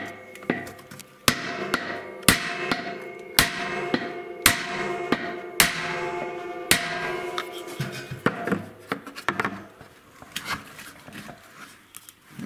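Hammer blows driving out a drum bearing on an LG washing machine through a copper drift, about nine sharp metallic strikes in an irregular rhythm, close and loud, followed by quieter scraping and handling.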